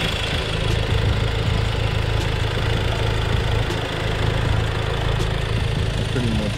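A 2009-2014 Acura TSX engine idles with a steady, close rumble, and a faint light valve ticking comes through the constant mechanical drone.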